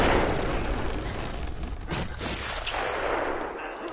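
Sniper gunfire in Batman: Return to Arkham, a dense burst of sharp cracks and booms layered over loud game noise, with a few distinct shots standing out around the middle of the clip.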